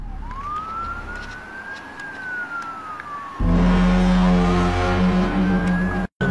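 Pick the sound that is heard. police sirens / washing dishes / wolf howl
police sirens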